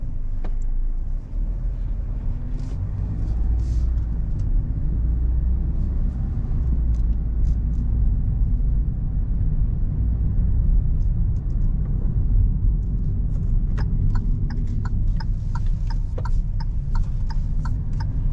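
A 2022 Kia Stonic with a 1.4 litre petrol engine drives along a road, its steady low rumble of engine and tyres heard from inside, with some light ticking and clicks toward the end.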